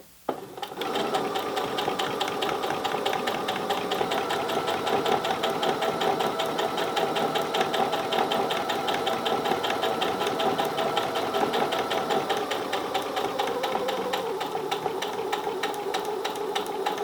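A sewing machine stitches across a fabric hot pad in one continuous, steady, close run of rapid mechanical clatter lasting the whole stretch.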